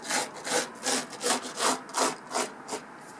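Fingers spread model railway ballast by hand along the track between the sleepers. About eight soft, gritty rubbing strokes come in a steady rhythm, heard up close and quiet with nothing else.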